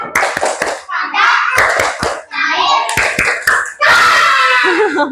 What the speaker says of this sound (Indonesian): Sekali lagi, tepuk wujud benda.